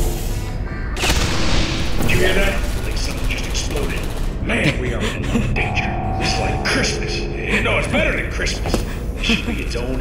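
Bursts of booming explosions and rattling gunfire from the video game Portal 2, loud and chaotic, with mechanical clanks layered throughout.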